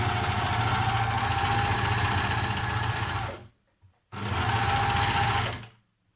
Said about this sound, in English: on the overlocker, just so that it gives me a nice flat edge to hem on